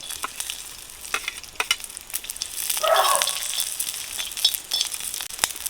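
Garlic, chilies, coriander and tamarind peel fry in a little oil, giving a close, continuous sizzle with crackling bursts and a short louder hiss midway.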